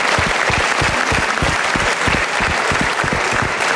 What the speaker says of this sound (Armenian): Գործող չեմպիոններին մի հատ եկեք ծափը արենք